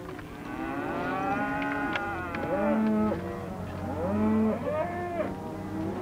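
Cattle mooing at Wattie Creek in outback cattle country, several long, low, overlapping calls from a herd, loud and steady against a constant background rumble.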